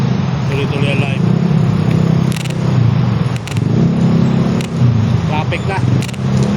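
Road traffic on EDSA during a bike tour, a continuous low rumble of car and motorcycle engines passing nearby with occasional sharp knocks, while a person talks over it.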